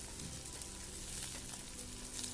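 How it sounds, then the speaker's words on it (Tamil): Onions with curry leaves frying in a pan for a goat fat fry, a faint, dense, continuous sizzle with no other sounds over a couple of seconds. "வெங்காயம் நல்லா வ வணங்கட்டும்"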